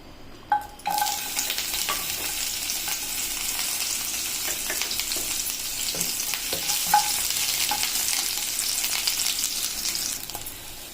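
Garlic and ginger frying in a spoonful of hot oil in a pan, a steady close sizzle with occasional stirring clinks and scrapes throughout, no voices.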